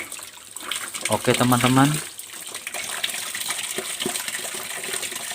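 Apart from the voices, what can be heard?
water flowing after opening the stop valve through a filter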